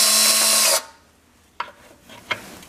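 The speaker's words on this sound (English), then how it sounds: "Drill ain't strong enough to take them off." A power drill whirs loudly for under a second while backing screws out of a 26-inch Lexani three-piece wheel, then stops, followed by two sharp clicks of metal parts being handled.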